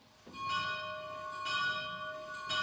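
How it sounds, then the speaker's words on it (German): Church bells in the village of Oberschnittenkofen, one of them cast before 1450, ring the evening bell with repeated sustained tolling strokes that swell and overlap in a steady, resonant peal. "wieder ein Abendläuten"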